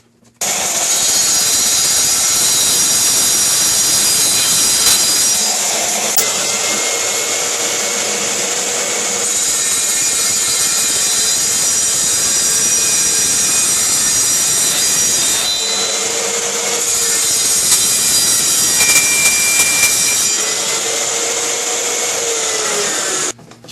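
Loud, continuous whine of a circular saw blade shaving wood into a ball, spinning steadily with brief dips in pitch as the blade eases into the material and a short pause partway through.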